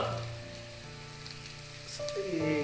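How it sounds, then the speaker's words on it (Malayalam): Chopped ginger and garlic sizzling in oil, a quiet steady crackle with faint tonal hums and a rising whine over it, growing a little louder toward the end. "ജിഞ്ചർ ഗാർലിക്ക് നമ്മൾ ഇതിലേക്ക് യൂസ് ചെയ്യാം"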